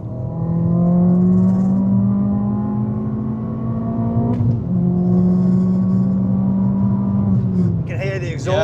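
An Abarth 595 sleeper build with a 300 bhp engine drives along in a steady, loud interior drone whose pitch shifts slightly, with a faint rattle of the exhaust touching the body and people talking over it.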